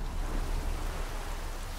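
Steady rain in The Witcher 3, a soft continuous hiss of drops falling at low volume with no other sounds.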